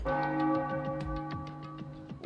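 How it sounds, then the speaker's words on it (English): Church bell tolling in the video game Danganronpa Another 2, a sustained ringing tone with lingering overtones and a few faint ticking strikes, moderately quiet. "Did the bell just ring?"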